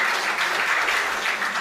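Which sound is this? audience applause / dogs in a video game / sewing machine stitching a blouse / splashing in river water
audience applause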